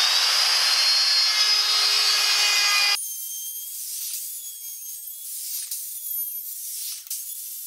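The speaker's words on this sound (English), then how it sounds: "then we can run the router across the side to give us that angled edge." A handheld router cuts an angled edge along the side of a timber workpiece for a table top, a loud steady whine for about three seconds that stops abruptly, leaving quieter workshop noise.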